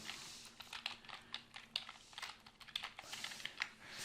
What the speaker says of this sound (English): I'm going to type the name of my company